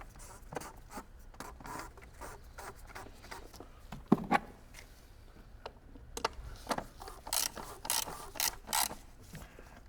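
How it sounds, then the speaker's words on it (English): Ratchet tightening the oil filter cover on a BMW 525d G30, with a series of close clicking and rasping strokes in uneven bursts among handling noises. "Now we can tight the oil filter cover."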